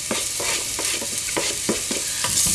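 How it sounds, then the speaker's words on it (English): Diced onion frying in a hot pan for crab bisque, with a continuous near sizzle and a series of spoon scrapes and stirs against the pan, and no speech. "I'm just going to fry this for a few minutes until it starts to soften"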